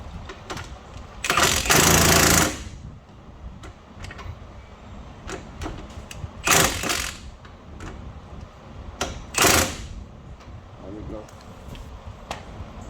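A power tool whirs and rattles in three short bursts, the first one longest, while a ball joint on a Lexus GS430 front suspension is tightened, with quieter clicks and workshop handling noises between the bursts.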